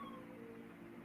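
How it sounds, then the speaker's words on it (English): A sleeping cat lets out a faint, drawn-out meow that is soft and close, with no other sound around it. "He's still asleep, but he's meowing, so he's talking in his sleep."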